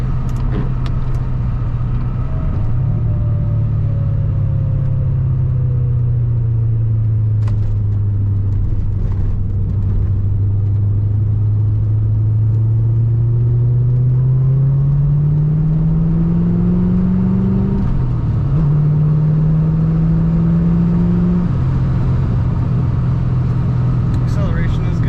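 A 1988 Chevrolet Corvette Coupe accelerates to 60 mph, its loud engine drone rising steadily in pitch with a shift partway through, heard from inside the car.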